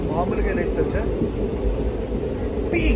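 An express train running from Tiruchirappalli to Rameswaram rumbles and rattles steadily with low, continuous rolling noise, while someone talks over it.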